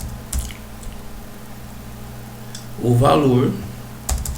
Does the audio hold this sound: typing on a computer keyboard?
yes